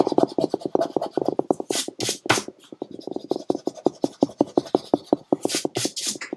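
An eraser rubs back and forth on paper at a craft table, making quick rhythmic scratchy strokes close by, with a few sharper brushing sweeps in between and no talk.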